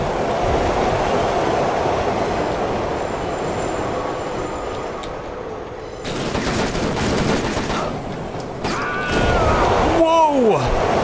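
Trains pass in a video game set in Paris, a steady rumbling roar that surges louder partway through, with wheel squeals, whooshes and bursts of gunfire layered over the constant noise.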